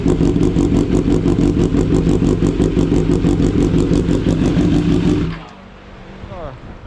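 A 2018 BMW S1000 R with a full Akrapovic exhaust system idling loud and close with a rapid, steady rumbling pulse, then shutting off abruptly near the end.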